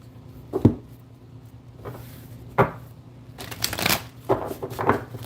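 Tarot cards are shuffled several times close up, brisk riffling bursts separated by short pauses and soft handling clicks.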